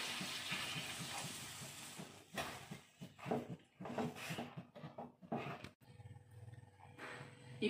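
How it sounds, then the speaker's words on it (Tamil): A soft splash and trickle of a cup of water poured into a fish curry pot, followed by quiet gurgling and sizzling; faint, close-up kitchen sounds. "ஒரு கப்பு தண்ணி ஊத்துறோம்."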